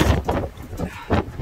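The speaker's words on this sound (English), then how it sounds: "It might be hard to hear parts of this video because of the wind." Strong wind on a stormy, sunny day at Hermosa Beach by Pier Ave in the Los Angeles area, gusting against the microphone in loud, rumbling bursts that swell and fade several times, with no talking.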